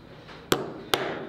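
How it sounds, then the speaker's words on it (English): A hammer strikes a TierraCast eyelet setter into leather twice, producing two sharp, close metallic taps about half a second apart against a quiet background. "Hammer it a couple of times."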